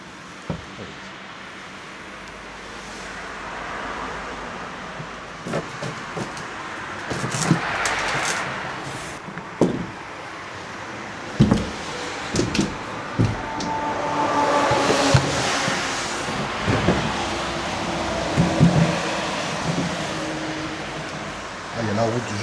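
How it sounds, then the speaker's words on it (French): A car passes on the road right beside an abandoned holiday centre, a broad swell of tyre and engine noise rising and fading over a rumbling outdoor background, with scattered knocks and movement nearby. "À peine il y a une voiture elle passe, t'es réveillé quoi."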